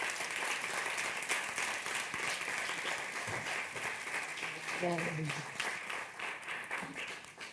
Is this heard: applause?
yes